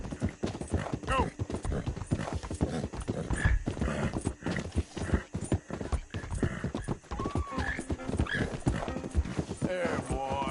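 A horse in Red Dead Redemption 2 gallops with rapid, continuous hoof clip-clop, joined by whinnies and snorts, while a voice speaks over the hoofbeats throughout.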